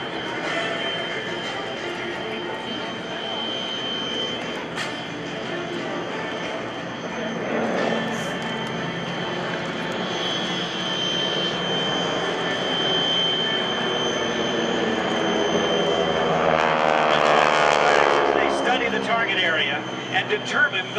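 Forward air controller aircraft arriving over a simulated target area at the 2012 Joint Services Open House air show: jet engine noise swells and passes overhead while an announcer talks over the public address.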